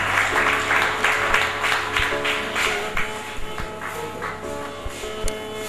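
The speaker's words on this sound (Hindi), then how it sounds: "आप अहबाब की भरपूर तालियों में" Applause from an audience at a book inauguration ceremony in Dina, Jhelum district, steady clapping for a few seconds that gradually thins, with a sustained music tone running underneath.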